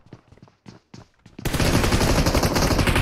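An M249 machine gun in a shooter video game fires a dense, loud burst of continuous automatic fire. It starts abruptly after a few quiet footstep-like taps and holds to the end.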